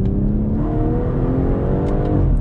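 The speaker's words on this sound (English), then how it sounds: "I really, really think that with that M exhaust on there, it sounds really, really good" A 2020 BMW M240i with M exhaust drones steadily up close, a low throaty exhaust note holding a constant pitch with a faint rising tone, no voices.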